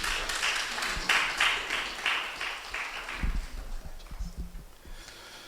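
An audience applauds to welcome the UN Resident Coordinator at a report launch and dialogue in Ghana, a moderate spread of clapping that slowly softens as low rustling and movement come through.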